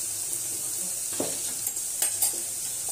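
Homemade onion-coconut masala frying in oil, a steady hissing sizzle with a few stirring scrapes and clinks near the end, close and unaccompanied by speech.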